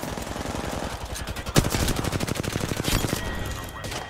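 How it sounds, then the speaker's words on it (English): Fast automatic gunfire in Apex Legends, a loud close burst of rhythmic shots running almost without pause, with a sharp impact near the middle and a player speaking briefly. "Getting shot at."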